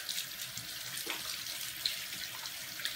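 Tap water runs steadily from a faucet while hands are washed and rinsed, a continuous close hiss with slight splashing and no speech.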